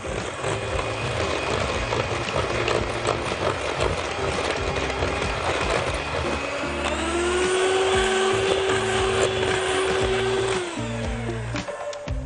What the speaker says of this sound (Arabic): على سرعه هاديه جدا بنبدا ان احنا نقلب